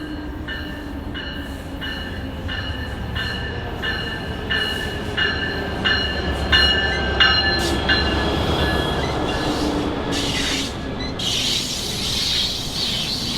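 A northbound Amtrak Cascades passenger train with a Talgo Series 8 train set rolls through Albany station at close range with a steady rumble and repeated tonal warning chimes, wheels squealing faintly as it moves past.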